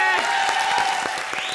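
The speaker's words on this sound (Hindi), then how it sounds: "एक बार जोरदार ताली बजा हमारे लिए।" Studio audience on an Indian TV comedy show breaks into loud, dense applause with cheering layered over music, steady and close for a short burst.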